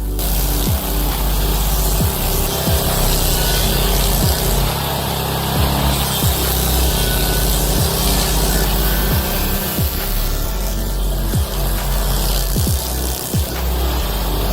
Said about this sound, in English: A log grinder that works as well as the ones you buy from the store.